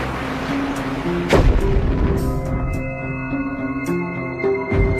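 A dramatized molasses storage tank bursts under pressure with a single loud, deep boom, followed by rumbling and tonal dramatic music.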